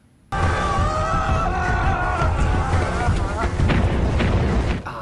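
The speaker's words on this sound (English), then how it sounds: "they're using the explosions that always leaves the ground without being the least bit damaged" A loud, sustained film explosion erupts suddenly and rumbles on with heavy low-end booming and crackling debris, then cuts off.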